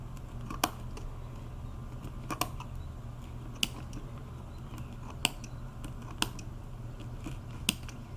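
Second-best scissors snip lace threads to free the work from a loom, giving sparse, sharp single clicks about once every second or two over a steady low room hum, close by and fairly quiet.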